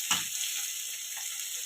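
Nigella seeds and cumin sizzle in hot oil in a steady, bright hiss. A brief burst at the start marks the seeds hitting the pan.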